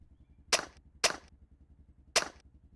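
Silenced pistol shots from Project Zomboid with the Hydrocraft mod, a vanilla handgun fitted with a pistol silencer: three sharp, snappy pops, two close together and a third after a pause, over a low steady game background hum.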